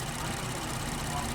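A Ford Transit-350 cargo van's 3.5-liter EcoBoost V6 idles steadily at close range, a constant low rumble without revving.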